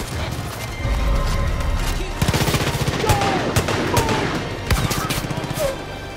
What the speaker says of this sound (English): Good thing I have a shotgun.